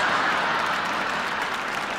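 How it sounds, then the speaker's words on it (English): Audience applause at a live Las Vegas comedy show, women clapping at a joke; a broad, even wash of crowd clapping held steady and fairly loud for a couple of seconds. "The women are clapping. All the women in the joint are clapping at that one."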